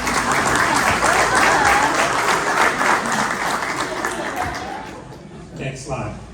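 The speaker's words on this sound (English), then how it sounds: "Will all the men in the room give the woman next to you a round of applause?" Loud, sustained applause from a large crowd, dense clapping that gradually thins and fades toward the end.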